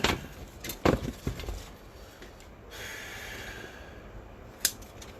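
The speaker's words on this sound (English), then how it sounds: "Well, put my scissor in it." Scissors snipping heat shrink tubing on a workbench, a few quick sharp clicks and snips near the start and one more near the end, close and fairly quiet, no talking.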